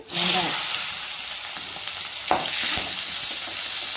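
Chili flakes dropped into hot oil with popped mustard seeds, a steady close sizzle from the pan with a stirring scrape partway through.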